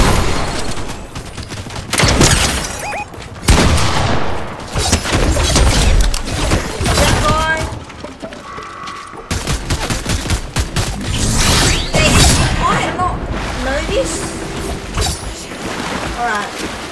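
Gunfire in a video game with a new Stakewood shotgun, a dense run of loud shots and blasts packed together over the whole stretch, with busy game effects around them.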